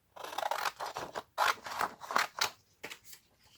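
Scissors snip through a printed paper picture, a close, crisp series of irregular cuts and rustles with short pauses between strokes.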